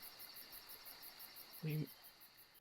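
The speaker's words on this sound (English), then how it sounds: "eventually the noise faded, leaving us with only the quiet chirping of the grasshoppers" Quiet grasshoppers chirping in the Everlasting Summer game: a faint, steady, rapidly pulsing high trill continues throughout, with one brief louder low thump partway through.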